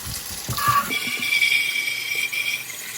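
Steady hiss of running hot tap water with a few splashes and knocks as a greasy engine part is rinsed under the stream, close by.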